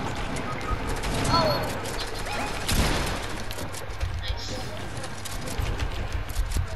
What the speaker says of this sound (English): I'm shooting with my SMG.